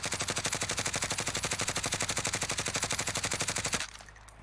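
Grau assault rifle in Call of Duty Warzone firing one long sustained full-auto burst, evenly spaced rapid shots for nearly four seconds before cutting off into a brief echoing tail.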